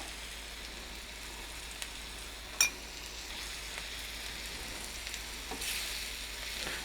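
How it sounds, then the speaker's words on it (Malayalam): Onions sauté in an open pan for an onion pickle, producing a soft, even sizzle with one brief sharp clack of a utensil and light stirring, quiet and close with no voices. "ഇത് തുറന്ന് വെച്ചിട്ട് തന്നെ സവോള നല്ല സോഫ്റ്റ് ആക്കിയിട്ട് എടുക്കുക"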